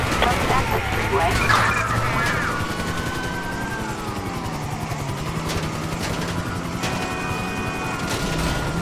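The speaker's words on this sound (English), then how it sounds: "Shots fired." Gunfire in the video game GTA V crackles in quick bursts during a desert chase. Shots and crashes mix with a droning engine or rotor, and a voice talks over the action.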